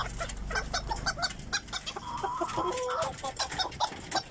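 A bantam chicken clucks in a steady run of short, close, throaty calls over low background rumble.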